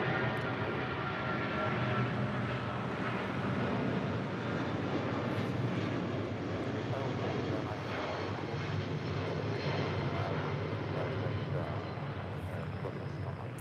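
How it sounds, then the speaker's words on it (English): An American Airlines Boeing 777-200ER jet departs for Miami from LAX, producing a broad, steady engine roar that holds at moderate loudness throughout with faint background voices. "That is American Airlines 2129 departing to Miami on a 777-200 ER"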